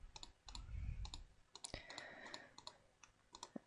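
Sharp computer mouse clicks come in quick irregular bursts while Minecraft performance mods are set up, with a few light keyboard-like taps between them, close and fairly quiet, with no talk.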